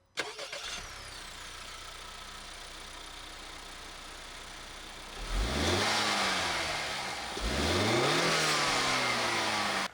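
A 2-liter turbocharged direct-injection four-cylinder in a 2019 Volvo luxury crossover starts, idles steadily, then revs twice in sharp rising surges, heard close and fairly loud.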